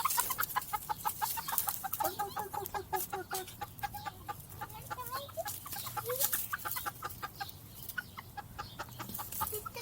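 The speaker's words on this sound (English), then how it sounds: "you guys want a close-up of the chickens? Chickens are getting bigger." Backyard chickens on an urban farm cluck in quick, repeated bursts close by, a steady chatter of several birds with a low hum underneath.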